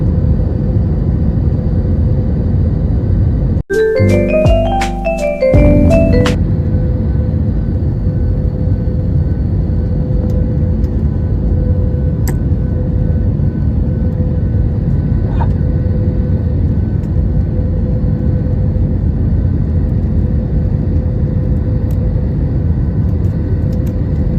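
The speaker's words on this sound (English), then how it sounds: "So here we successfully landed Calcutta International Airport NSCBI." Constant loud low rumble inside the cabin of an Air India A321 after landing at Kolkata airport, with a brief burst of tonal chimes or announcement sounds near the start.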